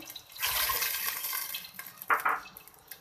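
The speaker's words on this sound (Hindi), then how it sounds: "पानी डाल दिया हमने।" Water poured into a cooking pot to boil basmati rice in a home kitchen, a steady splashing pour that swells and then trails off, with a brief louder gush near the end and no talking.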